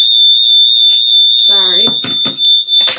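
A smoke alarm shrieks with a continuous high-pitched tone throughout, while a person speaks briefly over it.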